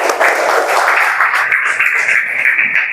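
A classroom group of students claps together, a steady loud wash of hand claps filling three seconds without pause, with faint shuffling underneath.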